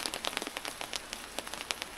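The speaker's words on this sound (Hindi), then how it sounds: "हाय बारिश, पोले पड़ रहे भाई।" Rain falls steadily on a surface, with dense crackling drops and sharper individual splats in an irregular rhythm, moderately close and on its own with no talk.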